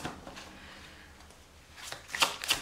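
Tarot cards are shuffled for a reading, with soft riffling at first and then a run of crisp, close card flicks and slaps toward the end.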